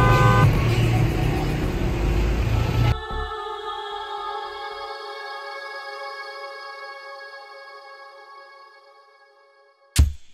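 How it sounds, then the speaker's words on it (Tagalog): Passing vehicles sound their horns near a tree standing in the middle of a street. A loud blast over traffic noise gives way to a sustained tone that slowly fades, followed by a brief sharp burst at the end. "bakit kailangang bumusina ang mga dumaraan ditong sasakyan?"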